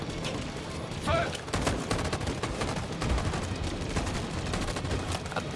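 Gunfire in the Detroit: Become Human video game, a faint, steady crackle of shots with some heavier bursts, heard at a distance beneath a busy game soundscape.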